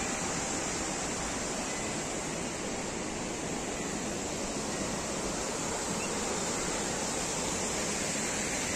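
The Randha waterfall roars below as a dense, unbroken wall of rushing water, loud and steady with no let-up, and no voices are heard.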